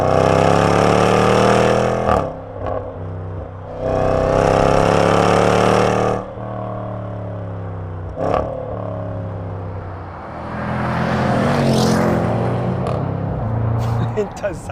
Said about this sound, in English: I'm driving a supercharged V8.